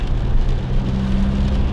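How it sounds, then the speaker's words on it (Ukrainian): Steady rain, with snow mixed in earlier, falls in cold weather near a car, giving a loud, continuous close-up hiss and patter with no voices. "Дощ іде, сніг."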